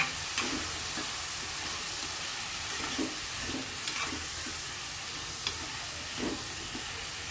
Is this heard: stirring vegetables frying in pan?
yes